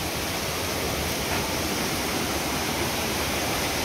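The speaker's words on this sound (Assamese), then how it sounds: "তলত কি ধুনীয়া নদী বৈ গৈছে" A river flows below a narrow path, giving a steady, dense rushing wash of water that stays constant and fairly loud throughout with no voices.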